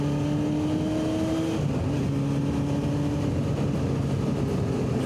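A 1990 Honda CBR600F motorcycle ridden through countryside, its engine droning steadily and loudly with smooth, continuous tone shifts as it holds and changes revs, mixed with constant wind rush throughout.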